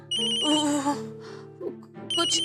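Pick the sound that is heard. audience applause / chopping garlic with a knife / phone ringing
phone ringing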